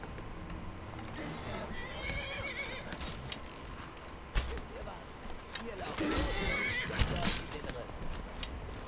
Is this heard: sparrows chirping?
no